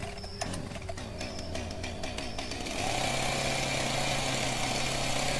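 A chainsaw in a gory horror video game: a rattling idle with clicks gives way to a loud, steady buzzing drone as the engine revs up and holds.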